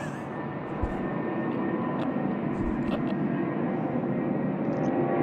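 A Jetstar jet airliner spools up and rolls for takeoff at Sydney Airport, a steady, fairly close engine roar that holds throughout, with light background noises.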